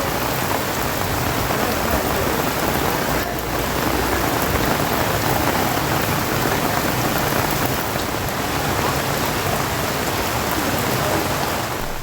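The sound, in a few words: heavy rain pouring on Madurai streets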